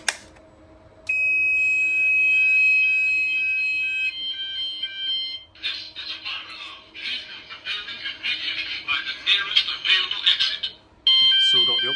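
A Gent Vigilon fire alarm sounder, set off from a call point during a weekly test, sounds repeated electronic tones, then a loud warbling siren pulses near and steady, with a spoken announcement mixed in.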